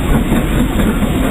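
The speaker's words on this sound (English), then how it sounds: "there's a train just coming through" A train rolls loudly past on the Isle of Wight steam railway, making a close, continuous rumble and clatter with no pauses and no voices.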